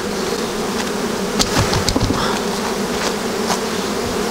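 Bees buzz steadily around a capped honey frame at an apiary as mature honey is taken, a dense continuous drone with a few sharper close passes.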